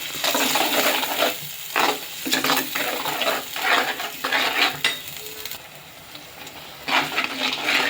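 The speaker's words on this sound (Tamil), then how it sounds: "குழம்பு தூள் அதே எண்ணெயில் போட்டு நல்லா வதக்கிடுவோம்" Ground coconut masala and kuzhambu powder fry in oil for a village-style fish kuzhambu, loud and close, with vigorous repeated stirring and scraping against the pan over a constant sizzle.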